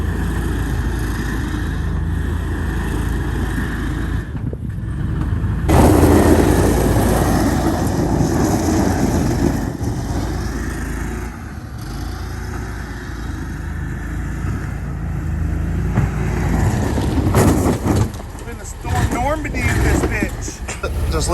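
A Max II 6x6 amphibious vehicle's engine revs with a steady low drone and surges of throttle, close and fairly loud, while people talk over it throughout.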